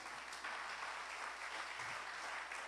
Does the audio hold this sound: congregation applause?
yes